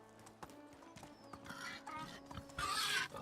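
A horse in the video game Medieval Dynasty clip-clops along at a steady walk, close by, then lets out a bright whinny near the end.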